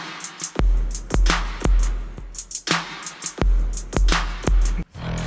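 Modern pop drum beat with punchy, deep kicks and crisp snare and hi-hat hits in a steady, repeating groove, loud and close with no other instruments.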